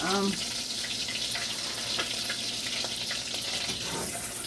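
Unsalted butter hitting a hot pan while making buffalo chicken wings, giving a steady, close, broadband sizzle and crackle that runs the whole time with a brief tonal note at the start.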